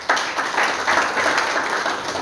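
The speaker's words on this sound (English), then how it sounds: "Another round of applause, please." At an annual lecture and awards event for community newspaper publishers, a hall audience gives a short, steady round of dense clapping, loud and continuous from start to finish.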